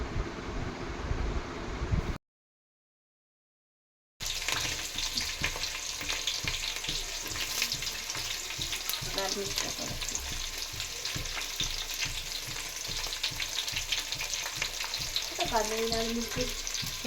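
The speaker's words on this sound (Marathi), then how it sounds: "फोडणीमध्ये लगेच कढीपत्ता आणि कांदे थोडंसं तांबूस होईपर्यंत" Curry leaves and onions frying in a tempering for chicken biryani give a steady, close sizzle with soft stirring scrapes, broken by a brief two-second dropout into total silence before the crackle resumes.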